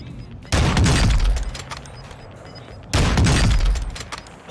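Gunfire in an online shooter video game: two loud bursts of rapid shots, the first at about half a second and the second near three seconds, each ringing out for more than a second before fading.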